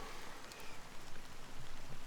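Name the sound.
rain falling in a video game cutscene (Honkai: Star Rail)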